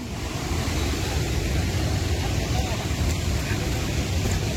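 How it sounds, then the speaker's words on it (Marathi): Thoseghar waterfall in heavy rain, its falling water a steady, dense roar of rushing spray that fills the whole scene without letup. "हे बघा, हेच पाणी खाली पडत आहे."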